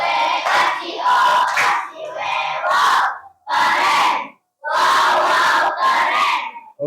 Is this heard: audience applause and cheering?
yes